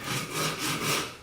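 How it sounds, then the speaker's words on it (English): Short strokes of a coarse, heavy-grit sanding block rubbing against wood, shaping a giant chess piece, a soft rhythmic scratching heard close up. "I'm going to start with a pretty heavy grit sanding block just for shaping purposes."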